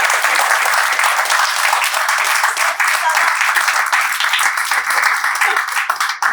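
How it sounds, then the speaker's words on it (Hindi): Loud, sustained applause from an audience at a banking exam toppers' meet, honoring the parents, dense steady clapping running the whole time without pause. "एक बार जोर से तालियां हो जाए हमारे पेरेंट्स को।"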